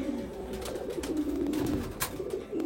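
Abluk pigeons coo in a steady, low, throaty rumble close by, with scattered clicks and faint background noise throughout.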